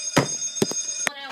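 An alarm goes off in short, sharp ringing bursts, three or four clanging rings spaced unevenly over about a second, with bright sustained tones between them.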